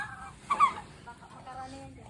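A turkey on a farm gives a short burst of gobbling calls near the middle, with faint clucking, bird sounds and low background noise around it.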